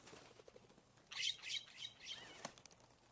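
A flock of jays fluttering down to the ground, a brief soft rush of flapping wings with faint chirps, quiet and somewhat distant.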